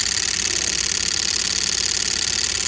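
A Newman motor runs at around 17 volts, giving a steady, even mechanical hum and whir that holds constant and close without pause.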